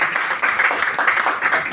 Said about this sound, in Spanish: un fuerte aplauso para este monstruo de la presentación